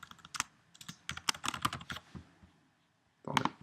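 Quick bursts of typing on a computer keyboard while entering CSS code, close and crisp clicks in uneven clusters, a short pause, then a final flurry of keystrokes, no talking.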